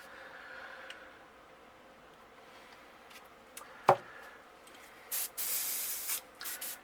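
An airbrush sprays stripes of paint onto a golden perch crankbait, with a quiet stretch and a sharp click before several short, close hissing bursts of spray near the end.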